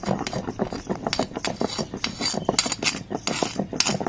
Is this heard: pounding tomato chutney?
yes